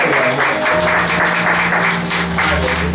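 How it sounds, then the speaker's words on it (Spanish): A church congregation claps together at a service, loud, close and sustained, with faint pulses that suggest rhythmic clapping and a low musical hum beneath. "Den un aplauso al Señor"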